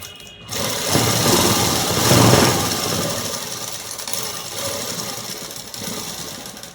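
A domestic sewing machine runs steadily, stitching the seam of a cut dress top with a continuous close whirring hum that swells briefly midway.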